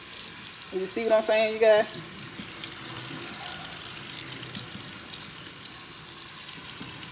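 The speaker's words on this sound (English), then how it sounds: "I'm going to put it over in the sink and try to rinse it" Tap water runs into a sink while a dyed red synthetic wig is rinsed under it. The flow is steady and moderately close, with a brief louder splashing burst early on, and someone talks over it.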